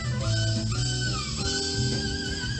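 Moog analog synthesizer played by a musician, a steady, loud run of sustained synth notes with shifting pitches and a gliding lead line over a thick low part, alone without talk.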